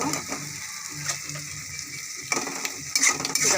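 Spice paste frying and being stirred in a pan, with continuous close sizzling broken by scraping, clicking stirs that grow louder toward the end; no one speaks.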